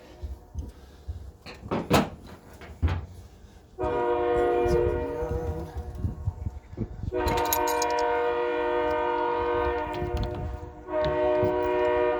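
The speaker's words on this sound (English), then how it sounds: "Hey, the train's back." A train rumbles past in long sustained stretches, horn-like tones ringing out loud and steady, with clattering and knocks between passes.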